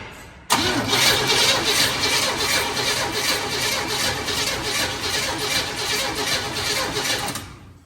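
A Chevrolet squarebody truck engine with no fuel reaching the filter cranks steadily for about seven seconds, the starter whirring rhythmically without the engine catching, then stops.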